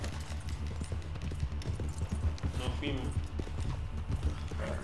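Horse hooves gallop in Red Dead Redemption 2, a rapid clip-clop rhythm under continuous game sound while someone talks over it.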